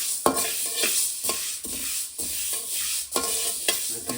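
Fenugreek seeds dry-roasting in a pan while being stirred, with regular scraping strokes of a spoon across the metal under a light constant sizzle-like rustle, close and steady.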